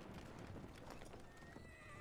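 Rapid hoofbeats of a galloping horse clatter over a dense background, with a faint horse whinny, in Battlefield 1 game audio at low level.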